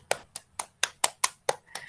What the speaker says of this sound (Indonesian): beri tepuk tangan dulu untuk teman-teman kita tadi